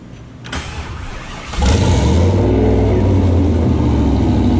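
A turbocharged truck engine fitted in a Corvette roars up on a dyno: a quieter idle, then a sudden jump at about 1.6 seconds to a loud, sustained, rising engine drone held close up.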